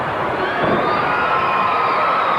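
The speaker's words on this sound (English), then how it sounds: "What a phenomenal crowd we have here tonight." Crowd in a wrestling arena during a live NWA televised match, a steady dense roar of cheering with scattered shouts and whoops, loud and continuous throughout with no clear break.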